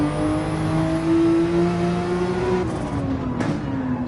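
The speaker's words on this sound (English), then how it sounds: "So this is in a Porsche 911." Porsche 911 racing at Goodwood in a racing video game: a loud, steady engine drone holding pitch, then easing off with brief shifts and rising again, close and continuous.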